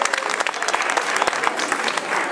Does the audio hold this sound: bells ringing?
no